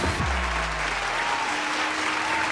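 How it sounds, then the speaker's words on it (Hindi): Workers in an animated story burst into applause, a dense burst of clapping that runs steadily throughout, with a low rumbling tone sliding beneath it at the start. "इधर ऊपर सभी वर्कर्स ने खुशी से तालियां बजानी शुरू कर दी"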